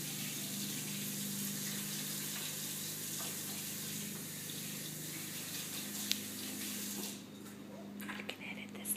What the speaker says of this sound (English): I'm going to rinse my hands off because they're greasy.